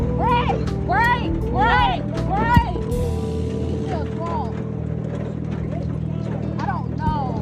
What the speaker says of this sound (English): we got to wait on the horses here